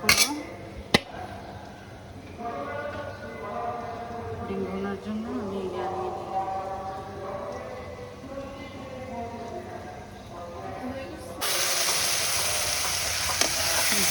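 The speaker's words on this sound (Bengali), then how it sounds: "মাংসটা কষানো হচ্ছে" Meat sizzling and frying steadily while being sautéed in a pan with spices, tomato and coriander leaves, with a brief clink near the start and louder hissing toward the end; voices talk over the cooking sounds.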